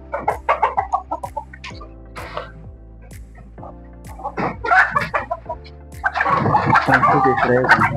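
In a poultry house, hybrid parent-stock chickens cluck and squawk in bursts, some close and loud, building into a denser chorus of agitated calls near the end.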